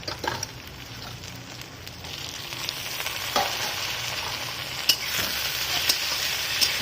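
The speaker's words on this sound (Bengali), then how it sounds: "টমেটো আর আদা রসুন বাটা দিয়ে একটু ভেজে নেবো।" Tomato and ginger garlic paste fry in a pan for a lentil, potato, cauliflower and egg curry, a soft, continuous sizzle with occasional sharp spatters and stirring scrapes close by.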